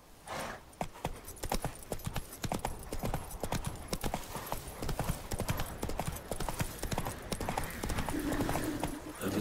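A horse's hooves clip-clopping at a steady trotting rhythm in The Witcher 3 video game, continuous and fairly close, with faint game ambience and a brief whinny-like sound near the end.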